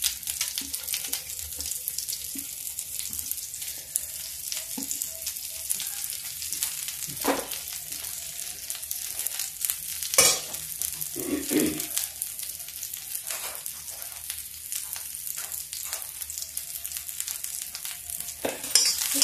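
Cauliflower fries with carom seeds in a hot kadai, a steady close sizzle running throughout, punctuated by occasional stirring clinks and scrapes of a spoon against metal.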